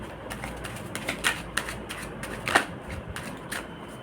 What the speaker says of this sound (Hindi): एक शफल और करेंगे